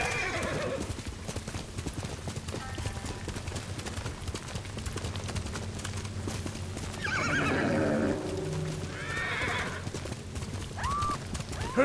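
Horses gallop with steady, close clip-clop hoofbeats and occasional whinnies during a mounted ride in a samurai-era video game set in Kushi Prefecture, with music and ambience underneath.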